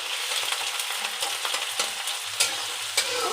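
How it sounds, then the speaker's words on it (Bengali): Kalmi saag fries in a pan with onion, garlic and green chilli while a utensil stirs it, a steady crackling sizzle broken by sharp scraping clicks, close and alone. "দিয়ে এবার ভালো করে নাড়াচাড়া করব"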